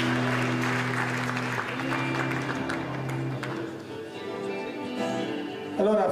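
Audience applause at a live tribute concert, a crowd's clapping under sustained low musical tones and a voice, fading somewhat in the middle before swelling again.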